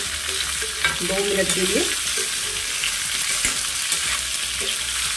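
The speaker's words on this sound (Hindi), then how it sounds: "तो थोड़ी देर इसको हम इस तरीके से भून लेंगे" Mango pieces with cumin, fenugreek and coriander seeds fry in a pan, sizzling steadily while a spoon stirs and scrapes in short bursts, with a brief voice speaking over it.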